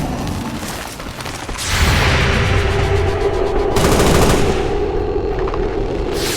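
Video game gunfire from XCOM: Long War of the Chosen, a loud, dense burst of rapid automatic shots and booms that swells midway and stays heavy to the end, with no talking.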